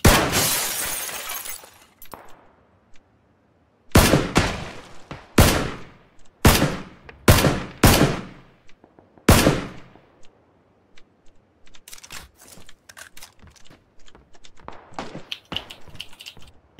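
PUBG gunfire: a loud opening burst, then a run of separate heavy shots spaced about a second apart, each ringing out, followed by quicker, lighter bursts of rapid fire near the end.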